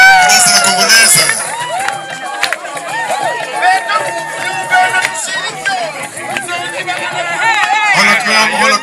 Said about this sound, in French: Le futur marié, on applaudit